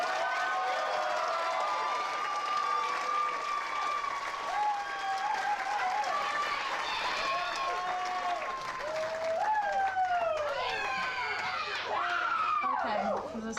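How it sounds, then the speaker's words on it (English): A crowd at a graduation ceremony claps steadily for several seconds, joined by scattered cheers and whoops rising over the sustained applause. "please give a big round of applause for Ashley Felsberto."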